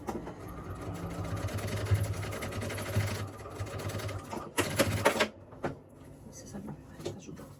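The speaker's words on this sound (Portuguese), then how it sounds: "vem com o pezinho de máquina aqui e faz o acabamento" A sewing machine runs in a steady mechanical whir as it stitches the seam of a necaissaire pouch, with a brief louder clatter near the end, under someone talking.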